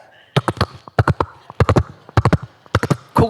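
A preacher mimics horse hooves with his voice during a sermon, giving a close, loud run of rhythmic clip-clop bursts in uneven groups of three and four.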